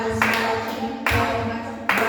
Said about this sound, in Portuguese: Bate palmas, bate palmas, bate palmas para Jesus